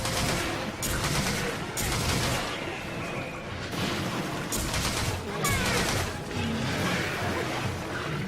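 A bowgun fires from a crouch in Monster Hunter 3 Ultimate, with a rapid series of dense, loud shot bursts recurring in rhythm over a busy game soundscape.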